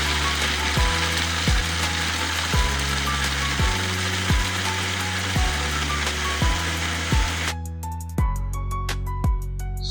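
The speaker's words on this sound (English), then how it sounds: "I have taken 350 gram of cashew nut, and I am going to grind it till fine powder" Cashew nuts are ground to a fine powder in a grinder, a loud close mechanical whirr broken by regular clacking pulses about once a second, with the tone thinning and clicks quickening near the end.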